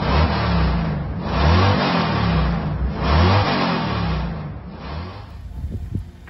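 A VW Golf MK7 GTI rated at 360 horsepower accelerates hard with the engine revving through rising and falling pulls, loud and close from inside the car, with no talk over it.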